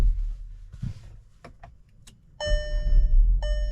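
Inside a 2023 Volkswagen Taos SE, a door thud and soft mechanical clicks lead into a steady, close electronic chime that repeats twice over a low engine rumble as the compact SUV starts.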